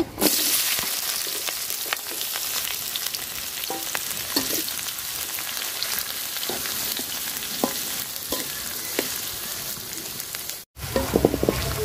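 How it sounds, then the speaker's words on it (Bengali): Onions and garam masala frying in hot oil in a pot, a loud continuous sizzle and crackle with scattered stirring clicks, briefly cutting out near the end. "তেল গরম হয়ে গেছে, গরম মশলা দিয়ে দিব, পেঁয়াজও দিয়ে দিব একসাথে।"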